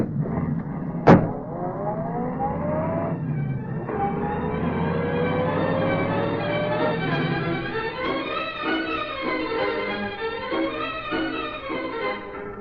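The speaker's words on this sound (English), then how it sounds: "Get in that squad car, Cassidy. Turn around and get after him." A police squad car, in an old radio-drama chase, pulls away and turns: a sharp door-slam-like click, then a steady rising engine drone with gliding pitch sweeps that fade and waver, with no talking.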